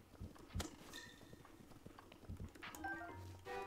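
Horse hooves clip-clop in Zelda: Breath of the Wild, a handful of close, uneven hoofbeats with no talking.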